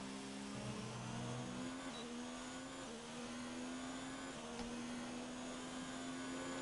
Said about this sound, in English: Going through the gears quite fast